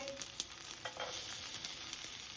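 Food frying in a little oil with turmeric and salt, a quiet steady sizzle with a few light stirring knocks near the start, no talk.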